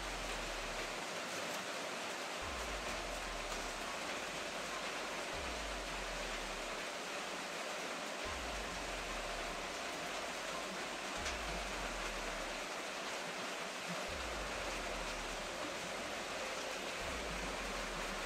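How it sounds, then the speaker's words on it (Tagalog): Heavy rain pours down in a steady, unbroken roar of broadband hiss that stays loud and even throughout, with no voices. "malakas yung ulan"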